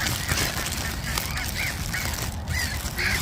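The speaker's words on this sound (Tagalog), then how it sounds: "that's a swan. A big swan." A large swan honks at a pond with ducks nearby, giving several short nasal calls spaced about half a second apart over steady outdoor background noise.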